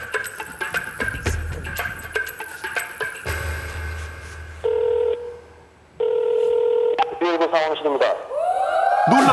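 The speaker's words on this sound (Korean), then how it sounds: "자 이번엔 119에 걸어보겠습니다" A mobile phone dials the emergency number 119 in Korea: steady line tones, then a quick series of short keypad beeps and a rising electronic signal, with voices talking in the background.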